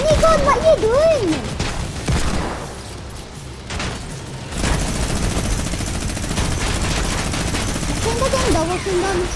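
Gunfire in Fortnite comes in rapid bursts and automatic fusillades with booming impacts, loud and close, while excited voices talk and shout over the shooting.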